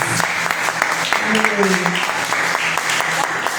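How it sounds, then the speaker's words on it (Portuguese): Congregation clapping for a group of women at a church gathering, brisk applause with a voice speaking over it and a short sung or called tone in the middle. "Vamos aplaudir essas mulheres aí em nome de Jesus"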